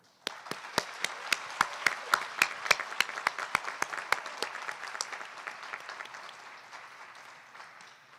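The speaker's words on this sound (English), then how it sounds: "I'd like to give a huge round of applause to the class of 2021 for making it here" Graduation audience at a school ceremony bursts into applause after a few sharp, separate claps, building to sustained clapping with loud individual claps standing out, then slowly fading.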